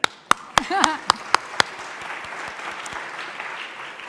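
Audience applause at an international women in sport congress, beginning with a few sharp, separate claps that swell briefly and then settle into a steady wash of clapping from the hall, with a short voice heard near the start.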